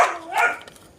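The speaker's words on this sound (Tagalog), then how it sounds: "Ang ingay ng aso." A single dog bark, fairly close and moderately loud, followed by a fainter second yelp and quiet tail, with no talking.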